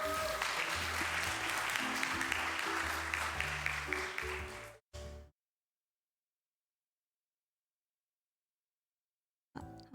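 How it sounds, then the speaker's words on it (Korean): Church youth congregation applauding at a Sunday worship service to welcome a young woman giving her testimony; dense clapping for about five seconds, then a brief burst, silence, and a little more noise at the end. "네, 우리 박수하겠습니다."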